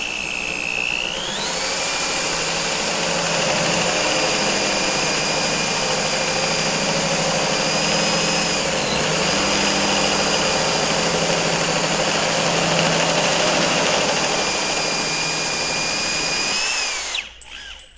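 A JMR tubing notcher driven by a drill cuts through steel tubing with a lubricated hole saw, giving a loud, continuous high whine that runs steadily for most of the stretch and winds down abruptly at the end.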